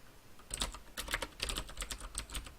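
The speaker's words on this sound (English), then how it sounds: "So I'm just going to type in" Rapid typing on a computer keyboard while entering a file name for a mid-poly wall bake, with irregular clusters of close, crisp key clicks and short pauses, no talk.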